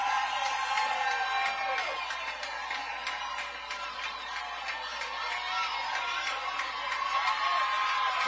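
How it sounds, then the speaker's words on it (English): A college softball crowd at an Oklahoma vs Hawaii game roars and cheers after a record-breaking home run by Jocelyn Alo, with whoops and clapping sustained throughout as a broad, loud wash of noise. "Listen to this crowd."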